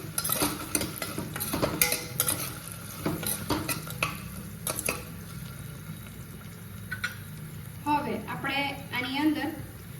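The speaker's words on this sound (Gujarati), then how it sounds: "હવે આપણે આના અંદર થોડીક એવી હળદર ઉમેરીશું અને બરાબર મિક્સ કરી લઈશું" Turmeric stirred into samo (moraiya) millet khichdi for a fasting meal in a pot: quick spoon clinks and scraping stirs close by, over a low simmer, with a voice talking partway through.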